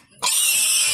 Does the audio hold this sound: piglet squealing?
yes